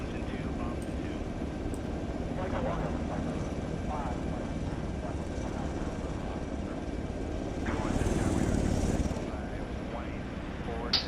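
Helicopter flight in a military simulation video game, a steady rotor and engine rumble running throughout with brief radio-style voice chatter over it and a swell of noise near the end.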